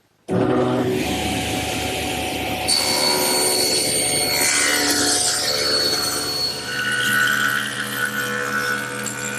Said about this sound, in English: then run it through my joiner again